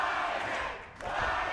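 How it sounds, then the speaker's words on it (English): Wrestling arena crowd roaring and cheering in a steady, loud, dense wall of voices, dipping briefly before surging back up. "The urging on, the energy from this crowd"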